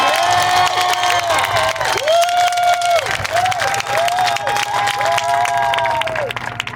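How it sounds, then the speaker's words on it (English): An audience claps and cheers at a Raphael Warnock rally in the Cobb County Civic Center, the crowd noise ongoing while sustained whistles or horn-like tones sound over it. "give yourselves a round of applause for doing it"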